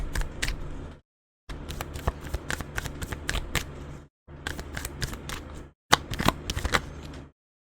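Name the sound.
shuffling tarot cards to draw a card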